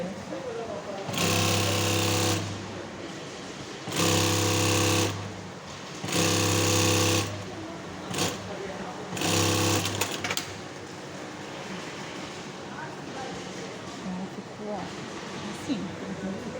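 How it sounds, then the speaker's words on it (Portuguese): A sewing machine stitches a two-seat sofa backrest in four distinct loud bursts of a few seconds each, separated by quieter pauses with handling noise. "Mesma coisa, comecei a costurar."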